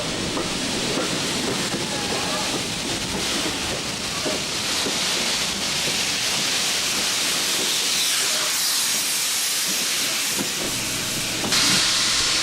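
An LMS steam locomotive known as the Ginty runs on the East Lancashire Railway at Bury during an LMS theme day, giving a loud, steady hiss of steam over a low rumble for the whole stretch, with no talking.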